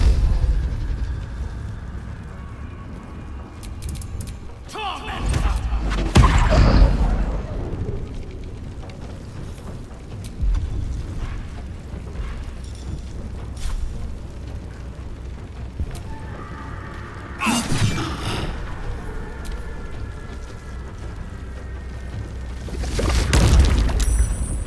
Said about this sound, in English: Just magic missile.